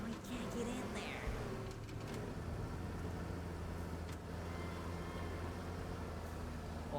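A car engine hums steadily while being driven in the video game Teardown, a low continuous drone with occasional clunks and knocks, and someone talks over it at times.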